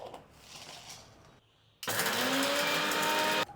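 Electric mixer grinder crushing whole cumin, black pepper and salt for dal vada batter: a brief rustle, a pause, then a loud steady whirring grind for about a second and a half before it cuts off.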